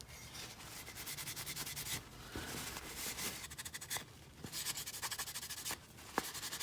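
A handmade spatula has finish rubbed into it by hand, a steady, soft, close-up rubbing and scratching that runs on for several seconds with small bumps and pauses and no talking.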